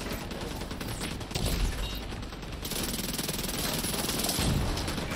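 Rapid weapon fire in The Division 2 co-op VR play, a loud, dense, continuous burst of shots layered over game noise throughout.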